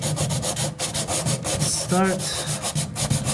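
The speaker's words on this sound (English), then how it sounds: "carefully sanding off all these runs." Someone hand-sands a painted bifold door with 180-grit sandpaper wrapped around a block, smoothing out old paint runs. The strokes rasp back and forth in a quick, steady rhythm, close and loud.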